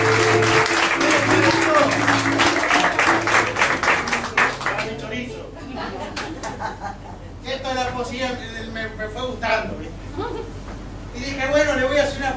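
Audience applause at a comic storytelling performance, a loud burst of clapping for the first five seconds that gives way to chuckling and laughter, with a voice talking over the later part.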